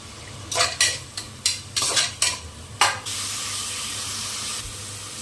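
A spatula knocks and scrapes in a pan several times, then a steady bright sizzle takes over as cinnamon and cloves hit hot oil, close and fairly loud with no voices.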